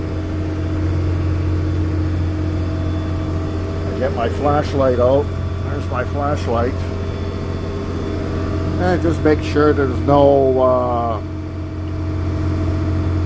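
A boat engine runs steadily below deck, a constant low hum and drone, while someone talks over it.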